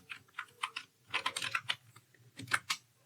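JavaScript code typed on a computer keyboard, bursts of quick close keystrokes in uneven clusters with short pauses between them, no voices.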